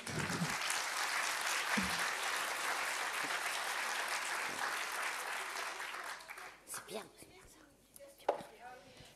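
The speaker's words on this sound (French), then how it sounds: "on peut applaudir nos intervenants" An audience at a talk applauds its panel of speakers, a sustained round of clapping that thins out and fades, with a few scattered claps and murmurs at the end.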